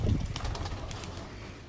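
Pigeons in a loft give soft, low cooing, faint and brief, with a little background rustle.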